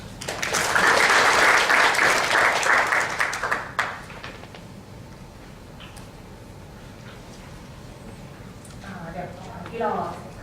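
An audience at a seminar on automotive part design and durability testing gives a loud burst of applause that fades after about four seconds, followed by quieter room sound and a voice speaking near the end.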